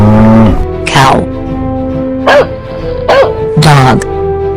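A cartoon dog in a children's nursery-rhyme animal sequence gives three short, loud barks spaced about a second apart over a steady, sustained musical backing.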